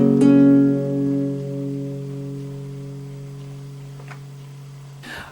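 A single chord strummed on a classical guitar in an unusual tuning, one clear attack followed by a long ringing decay that slowly fades, heard alone and close.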